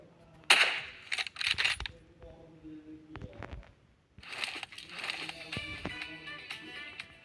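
Gunfire from a new weapon in the video game PUBG comes in sharp bursts of shots with brief gaps, separated by a quieter stretch and then a longer burst of rapid firing.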